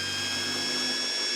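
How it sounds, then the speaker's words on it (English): Close and loud, a power drill with a 3/32 bit spins through extruded aluminum, its steady high whine holding evenly without a break, with no talk over it. "when you drill into the extruded aluminum, there are 2 walls."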